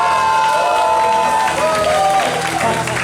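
A church congregation at a GBI Joyful service shouting and cheering hallelujah in unison, a loud close burst of many voices with applause, then drawn-out sung shouts gliding in pitch before fading.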